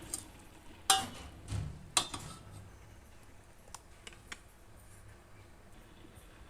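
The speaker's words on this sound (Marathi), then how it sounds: "हे पहा, बेसन पीठ आणि भाजी पूर्ण एकजीव करून घ्यायची अशी." Gram flour and chopped taro leaves are mixed together in a vessel, giving soft stirring and a few sharp clinks of the spoon against the side, quiet and close, with no talking.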